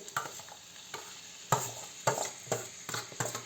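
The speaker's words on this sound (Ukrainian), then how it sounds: "І трошки їх підсмажую ще." Dried, boiled and chopped mushrooms frying with a large onion in a pan, a light sizzle under a rhythmic series of sharp spatula scrapes, close up with no talking.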